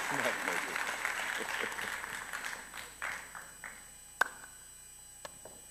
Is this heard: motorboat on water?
no